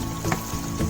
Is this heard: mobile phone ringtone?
no